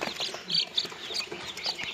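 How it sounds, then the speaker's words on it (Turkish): Day-old chicks peep in a brooder, a few thin high chirps repeating close by over soft background. "Bunlar da dün çıkan civcivlerimiz maşallah."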